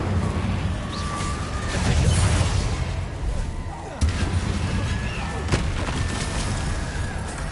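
Incendio fire spell in Hogwarts Legacy, a roaring whoosh with heavy booming bursts and sharp cracks amid ongoing battle noise, with brief spoken voices mixed in.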